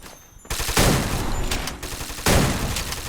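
Loud automatic gunfire in the battle royale game Free Fire, two close bursts of rapid shots separated by a brief quieter pause.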